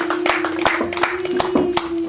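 Wedding guests clapping in scattered bursts, about eight to ten sharp claps at an uneven pace over a steady background tone, fairly close and moderately loud.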